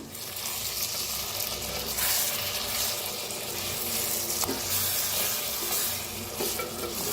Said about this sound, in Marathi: एकदम मिक्स करूया.